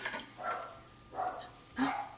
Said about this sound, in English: And we hear the puppies barking at something upstairs.